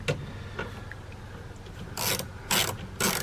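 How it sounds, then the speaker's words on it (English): Ratchet tightening the front bumper bolts on a 2015-or-later Dodge Challenger, a few close, rasping clicks in short strokes, faint at first and then three louder pulls near the end. "I'll get all these tightened down"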